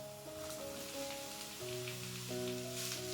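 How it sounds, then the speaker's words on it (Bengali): Washed pumpkin pieces drop into a pan of onions already fried until reddish, giving a steady hiss of sizzling oil that continues under background music with sustained tones. "এবার দিয়ে দেবো এখানে ধুয়ে রাখা কুমড়ো"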